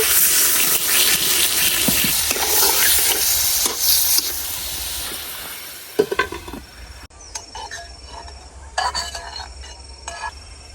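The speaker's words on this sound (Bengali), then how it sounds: "অল্প একটু পানি দিয়ে দিতেছি" Tilapia fish with spices hits hot oil in a pan as a little water is added, giving a loud, steady sizzle and hiss for several seconds that then drops to quieter sputtering with a few clatters and stirring knocks.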